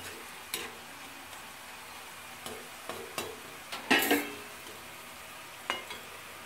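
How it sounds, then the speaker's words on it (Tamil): Bitter gourd chips fry in oil over a low flame with a soft, steady bubbling sizzle, punctuated by scattered scraping clicks as a utensil stirs and lifts them from the pan. "பாருங்க, பாவக்காய் பொறிஞ்சு வந்துட்டு"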